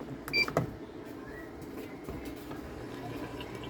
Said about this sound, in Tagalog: Nag-open ang valve niya. Nag-drain ang tubig.